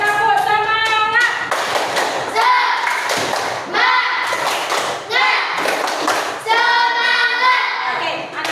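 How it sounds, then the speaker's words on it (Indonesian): Class of children doing a rhythmic cheer clap together, sharp group claps falling in patterned bursts with loud chanting voices throughout. "Oke, tepuk semangat."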